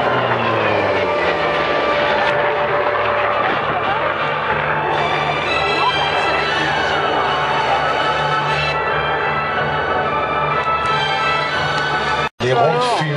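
Hawker Sea Fury piston-engined fighter flying at an air show at La Ferté-Alais, its loud continuous propeller engine roar filling the scene with shifting tone as it passes, ending in a brief cut.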